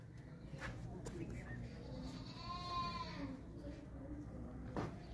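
Goats bleat at a livestock market, with one wavering cry standing out in the middle and others around it, under a steady crowd murmur and people talking nearby.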